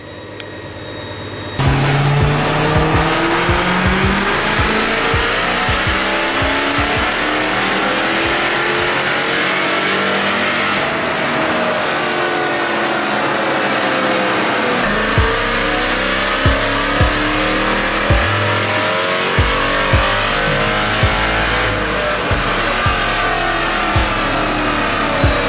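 A Mercedes C63 AMG revs hard on a Mustang dyno, its loud engine sweeping up and down through repeated long pulls with sharp gear-change breaks and crackles, close and constant for the whole stretch.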